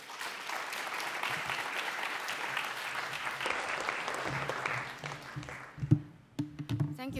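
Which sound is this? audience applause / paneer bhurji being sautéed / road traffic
audience applause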